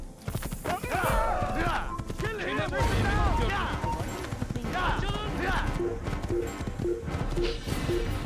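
A horse galloping in the Assassin's Creed video game, rapid rhythmic hoofbeats running throughout, with a voice talking over the galloping.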